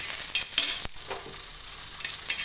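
Green chillies frying in a little oil for a fenugreek-leaf curry, giving a steady bright sizzle with a few soft stirring scrapes, close and uninterrupted by speech.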